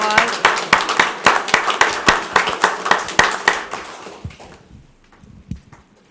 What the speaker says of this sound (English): Okay, we can give them a nice round of applause.